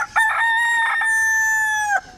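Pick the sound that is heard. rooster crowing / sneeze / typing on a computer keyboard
rooster crowing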